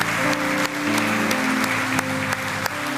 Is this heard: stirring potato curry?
no